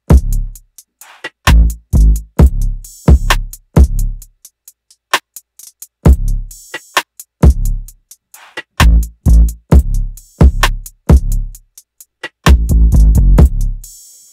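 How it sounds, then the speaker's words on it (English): A trap beat of 808 bass and kick drum sidechained through a compressor thumps in a punchy, irregular pattern, each deep hit swelling and cut short, with bright hi-hat ticks between them and no voices. "using a compressor, my 808 and my kick drum."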